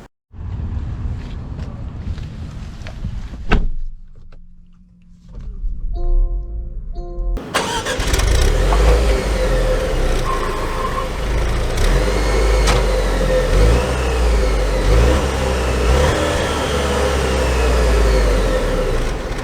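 A 2023 Range Rover Velar R-Dynamic S starts up and drives off, with a faint early rumble giving way to a loud, steady engine note and road noise. No one speaks.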